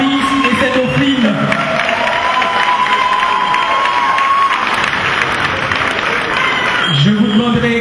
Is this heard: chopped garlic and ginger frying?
no